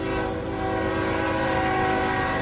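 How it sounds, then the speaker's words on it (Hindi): Steady, loud rumble of an approaching train on a railway track, with sustained tonal hum from the locomotive and no pauses, heard alone. "ट्रेन की आवाज भी अब तेज हो"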